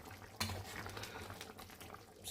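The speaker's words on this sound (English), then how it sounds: "stirring it" Chicken stew without onion simmering over a medium flame in a covered pot, with a soft liquid bubbling and sloshing as it is stirred, one sharper clink of spoon against the pot early on and a low steady bubbling underneath.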